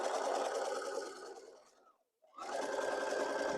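A sewing machine fitted with a walking foot runs a seam on flannel strips for a baby blanket, a loud close whir that slows and stops briefly, then starts up again.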